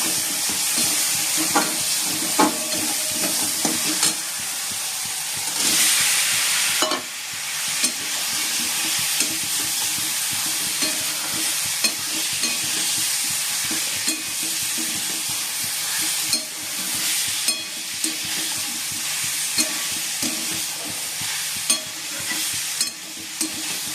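Boiled soybean chunks and potato go into a pan of fried spice mix, and a loud, steady frying hiss runs throughout, broken by repeated stirring scrapes and knocks close by, with no talking.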